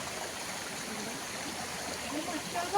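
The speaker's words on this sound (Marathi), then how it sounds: "थोडं पुढे आल्यावर आपल्याला छोटासा ओढा पाहायला भेटतोय." A small stream flows in a steady, even wash of water noise, close and moderately quiet, with no talk over it for a few seconds.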